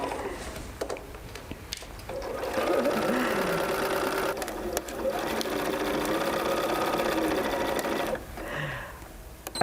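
Sewing machine stitching a jacket sleeve seam and backstitching, a steady motor whir with brief stops and restarts, close up, with some quiet voices in the background.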